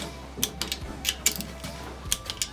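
A torque wrench works on high tensile sump stud fasteners of a rotary engine, giving quiet irregular ratcheting clicks and small metallic ticks, close by with no talk.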